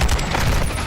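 Rapid gunfire from a Call of Duty match in a competitive league qualifier, a dense, loud burst of shots packed together with no clear gaps.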